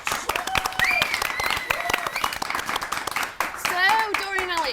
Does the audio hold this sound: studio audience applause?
yes